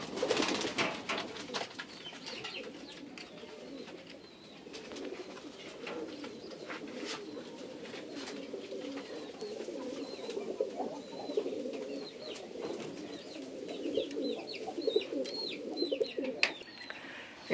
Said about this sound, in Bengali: সব কবুতর রেস্টে দেওয়া, তো কিছু কবুতর আছে এখানে